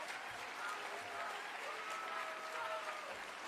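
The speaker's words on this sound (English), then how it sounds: "Let's clap our hands for freedom of speech in this country." An audience at Cleveland's State of the City address applauds, a faint, somewhat distant patter of clapping that runs continuously for a few seconds, with some faint tonal sound mixed in beneath it.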